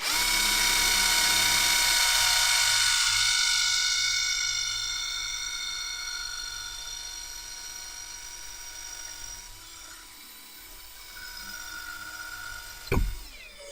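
A Bosch Pro multi-construction bit drills through brick, the drill whining loudly and steadily at first, then easing into a lower, quieter grind before a brief sharp knock near the end.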